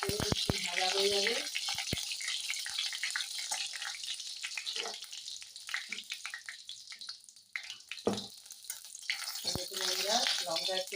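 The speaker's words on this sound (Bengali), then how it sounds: "এই শুকনো লঙ্কাটা লাল লাল করে একটু ভাজা হয়ে যাবে।" Dried red chillies crackle and hiss in hot oil in a pan, a steady close sizzle dotted with sharp pops and stirring knocks, while a voice murmurs briefly at the start and end.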